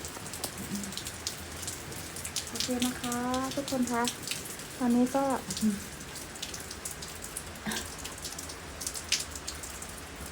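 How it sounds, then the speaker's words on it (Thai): Heavy rain pours steadily at night in Auckland, a dense hiss of drops, while someone talks briefly over it. "บรรยากาศวันคืนฝนตก"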